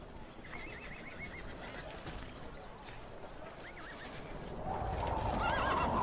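A horse whinnies several times in a rising and falling call, with hooves clip-clopping, in the intro of a song, set over music that builds louder near the end.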